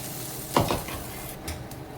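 Bread omelette with egg batter cooks in a pan over high flame, a soft frying hiss with a brief scraping stir and a light clink of the pan.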